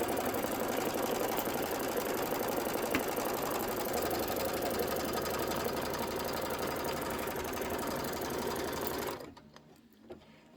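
A Kimberbell embroidery machine stitches a wire dress form design in a fast, steady mechanical whir that runs loud and unbroken for about nine seconds, then stops and leaves near silence.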